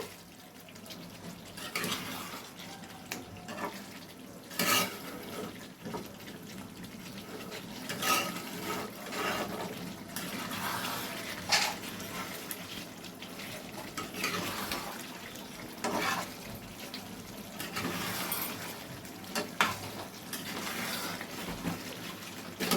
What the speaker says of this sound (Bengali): এটা খুব সুন্দরভাবে ফুলকপি আলুর সাথে মিশিয়ে দিতে হবে।